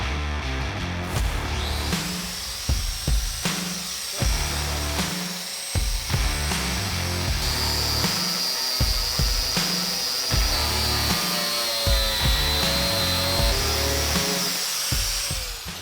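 A power tool grinds steadily against a car body panel, stripping off paint in a loud continuous whine broken by short pauses and shifts in pressure.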